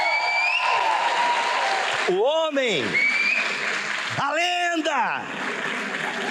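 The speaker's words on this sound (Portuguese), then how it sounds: "Senhoras e senhores, recebam com palmas Cacau Marques." Steady, loud audience applause at a stand-up comedy event as the comedian takes the stage, continuous clapping under a voice speaking over a microphone and some cheering.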